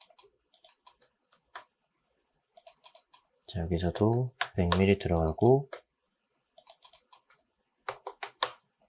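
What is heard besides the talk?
typing keyboard shortcuts on a computer keyboard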